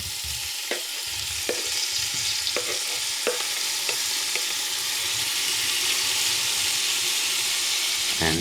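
Tomato mixture with browned garlic sizzling in a pan alongside cherry tomatoes and olives, a steady hissing fry with occasional stirring scrapes, close and continuous.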